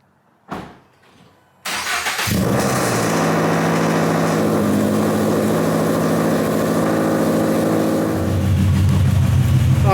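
Toyota GR86 fitted with a new over pipe and front pipe starts up and runs steadily, a loud, close, continuous engine drone with a brief rev-like swell near the end.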